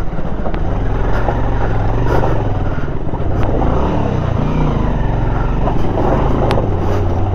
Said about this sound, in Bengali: পিছনের চাকা শুধু ঘুরতেছে।